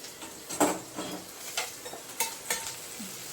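Cooked okra being scooped from a pan into a dish. A spoon makes a series of light, close scraping clinks against the metal at uneven intervals, with a faint background hiss.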